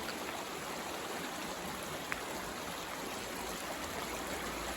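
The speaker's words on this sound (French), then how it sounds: "Il y a le bruit de l'eau bien sûr" Vézère river water flowing steadily past a campsite, a continuous close, even rush and trickle with no voices.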